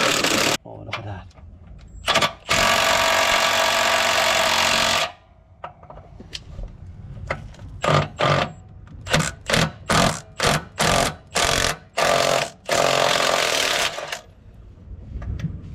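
A small impact gun with a socket removes a rung stud, giving a long loud rattling burst followed by a string of short sharp hammering bursts, close by, with people talking in between.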